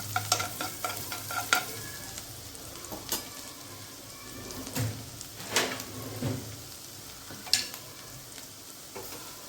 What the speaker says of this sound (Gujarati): તેને ઉમેરી દેવાનું છે અને લસણને સાતળી લેવાનું છે